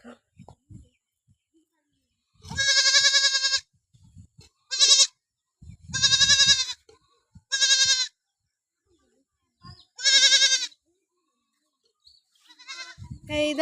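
A young goat kid bleats again and again at close range. The cries are short and uneven, separated by quiet gaps, with faint voices near the start and end.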